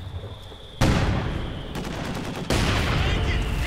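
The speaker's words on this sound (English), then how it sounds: "Just lots of mortar rounds going in there" Heavy and regular mortar rounds in Company of Heroes 2, firing around an old apartment building while a 45mm gun supports nearby: dense, booming barrages with sharp onsets, continuous and loud throughout, with no talking.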